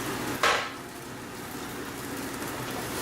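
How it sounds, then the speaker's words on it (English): Cluster beans cooking in a covered pan over a medium flame give off a steady, even hiss, with one brief clatter near the start. "we're going to cook it for only 2 minutes on medium flame"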